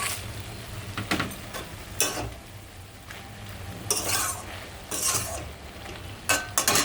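Lentil dumplings (bori) going into a pan with spinach (palong saag) and frying, heard as quiet sizzling beneath repeated bursts of stirring and scraping, spaced irregularly a second or so apart.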